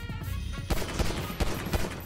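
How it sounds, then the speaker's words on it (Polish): Gunfire in the video game Grand Theft Auto Online: a burst of several sharp shots, then separate loud cracks spaced irregularly over a game soundtrack with music. "No ten też parę strzałów dostał"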